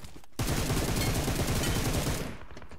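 Rapid automatic gunfire in the battle royale game PUBG Mobile, a loud sustained burst of closely spaced shots lasting about two seconds before cutting off.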